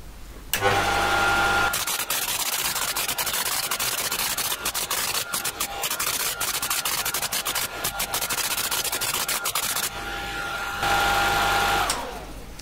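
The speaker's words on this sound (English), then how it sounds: "we are going to uh, punch what we type to tape" A Teletype ASR33 types and punches paper tape with a dense, continuous mechanical clatter of rapid rhythmic strikes. It is loud and close, with a brief lull near the start and a hum at both ends.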